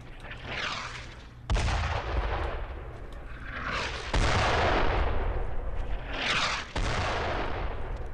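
Mortar fire in Brothers In Arms: Road to Hill 30: three heavy close blasts land a couple of seconds apart, each a sharp crack followed by a long rumbling roar, with sustained battle noise throughout.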